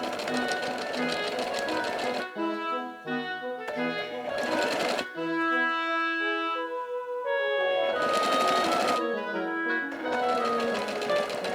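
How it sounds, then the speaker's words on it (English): A sewing machine stitches bias tape onto a skirt in a run of motor bursts, starting and stopping several times with steady whirring between short pauses, close by and fairly loud, with no talk. "I'll likely do the first stitch on the bias tape on all three skirts"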